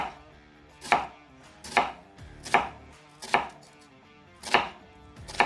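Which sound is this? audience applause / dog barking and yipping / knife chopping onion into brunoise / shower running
knife chopping onion into brunoise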